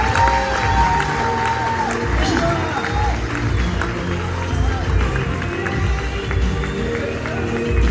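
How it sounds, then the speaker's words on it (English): An audience at a sales conference claps and cheers as Sarah Middleton walks on stage, a continuous crowd roar with shouts, fairly loud and sustained, with music or voices mixed underneath. "Give Sarah Middleton a big round of applause."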